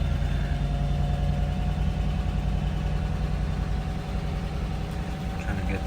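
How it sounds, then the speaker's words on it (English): A 1959 Edsel Villager wagon engine idles steadily, a low, even rumble that holds throughout with no speech over it. "it's nice to hear the engine starts right up."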